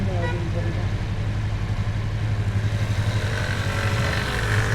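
A motorcycle engine idles steadily nearby with a low, even rumble throughout, while someone talks over it.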